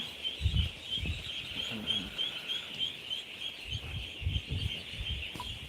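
Several two-month-old ducks honk and quack in short bursts over a constant high hiss, fairly close, with no one speaking.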